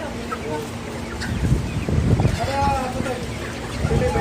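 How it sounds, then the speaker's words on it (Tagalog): Live native chickens cluck and squawk at a poultry market in Jeddah among a busy crowd, with voices talking over the clucking throughout. "nandito na tayo sa bilihan ng mga live kalapati, live native chicken"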